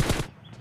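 Rapid bursts of gunfire from the mobile shooter Battlegrounds Mobile in a team deathmatch: two quick volleys separated by a brief pause, sharp and close.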